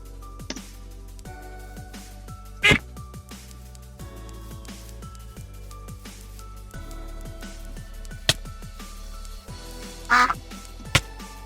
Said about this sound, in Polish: Pierwszym mobem, jaki jest w tej modyfikacji, jest to kaczka, która wydaje te dźwięki.